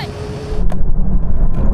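A loud engine roar swells as a Le Mans-winning car and a Bentley W12 accelerate hard in a rolling drag race, the rumble building and growling close by.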